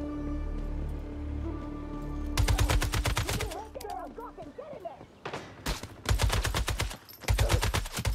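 Automatic gun fire in the game Once Human, loud rapid bursts of shots in several volleys with short gaps between them.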